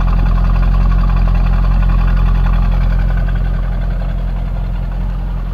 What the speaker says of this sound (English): It's got factory exhaust, so they're not loud.